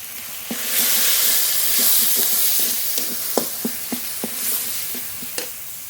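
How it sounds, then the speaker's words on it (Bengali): Spice masala with green chilli paste, salt and turmeric fries in a pan for ghugni made with goat fat. Continuous sizzling and steam hiss run under repeated sharp taps and scrapes of a spoon as the mix is stirred. "এবার একটু জল দিয়ে মশলা খুব ভালো করে কষিয়ে নেব"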